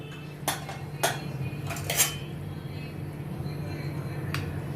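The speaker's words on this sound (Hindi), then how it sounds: "कुकर का ढक्कन मैं खोलती हूँ।" Sharp metallic clanks and clatters of a pressure cooker lid being opened after its steam has been released come in a few quick bursts over a low steady hum in a kitchen.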